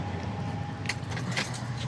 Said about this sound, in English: will grab the keys here for us to look in the trunk